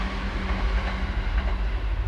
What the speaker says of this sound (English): Whoa, train.